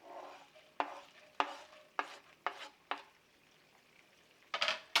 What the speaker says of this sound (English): These are gonna get toasted in with that butter